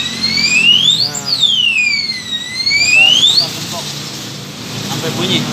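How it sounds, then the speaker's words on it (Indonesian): A Vinix alarm fitted to a Honda CBR 150R motorcycle wails loudly and nearby, its piercing tone sweeping rapidly up and down in repeated siren cycles. "Nah, ini motor mati, alarm bunyi."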